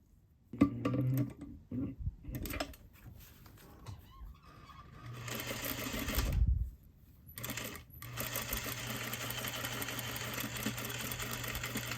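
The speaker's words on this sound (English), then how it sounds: "I finished machine stitching that down" A sewing machine stitches appliqué onto an evening gown, with a few short starts and stops before settling into a long, steady, close whirring run.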